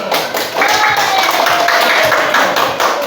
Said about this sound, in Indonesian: Tepuk tangan untuk kelompok 4 dulu nih.